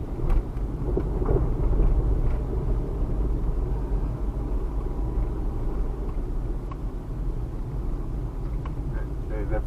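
A car driving slowly through a residential neighborhood of large houses in Mandeville, Jamaica, a low steady engine and road rumble heard from inside the vehicle, with a voice talking over it.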